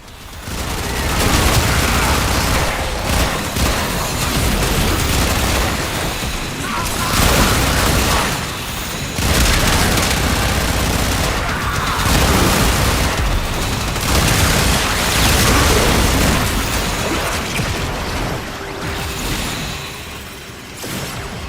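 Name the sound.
gunfire in Warframe video game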